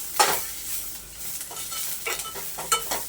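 Coriander seeds, green chili and cilantro roast in a dry pan for a Konkani chicken rassa masala, with soft crackling and a few quick scraping stirs, fairly quiet and close.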